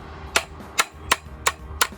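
Five sharp metallic strikes land at an even, steady pace, an adze knocking a bent blade straight close by, with quiet pauses between blows.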